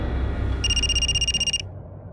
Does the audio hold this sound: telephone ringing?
yes